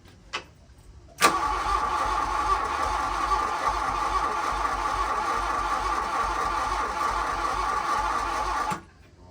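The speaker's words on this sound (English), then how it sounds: "we'll go for cranking on it again and see if it fires" Starter motor cranking a Volkswagen Golf GLi Karmann cabriolet engine, a steady rapid churning for about seven and a half seconds with no catch, loud and close, after a brief click.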